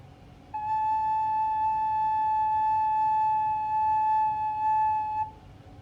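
A single sustained recorder note, fingered with the thumb and fingers one and two, holds steady and clear for about five seconds over faint background hiss, with no talking.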